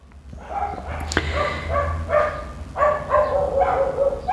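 Dogs bark repeatedly in short uneven bursts, fairly close, with one sharp yelp among the barks.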